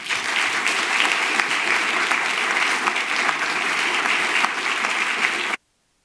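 Steady, dense audience applause welcoming a speaker onto a faculty show stage, loud and continuous for over five seconds before cutting off abruptly.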